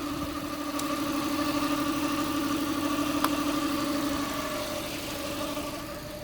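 A Mazda 323F engine idling steadily at about 600 revs, a low, even hum with a constant tone and a faint tick now and then, heard close and without any voices.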